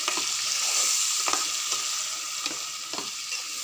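Tomato chutney being stirred after fenugreek-mustard powder goes in, a steady sizzle running throughout with soft scraping strokes of a spoon recurring every second or so, close and alone.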